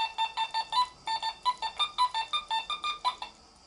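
Small metal detector sounding over a buried bronze athletics medal: a rapid run of warbling electronic beeps, about a dozen short pulses in quick succession, fairly quiet and close with no talking.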